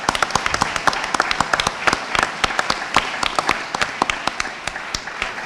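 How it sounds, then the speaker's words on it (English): An audience at a conference plenary claps, with dense, close, sharp hand claps that hold steady throughout. "I think they deserve a round of applause also"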